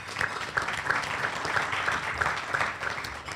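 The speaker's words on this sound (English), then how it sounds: "Please give him a round of applause" Applause from a seated audience at a Tiger Bay Club of Manatee luncheon for an assistant police chief, a moderate, even patter of many hands heard at some distance in a room, with a faint murmur underneath.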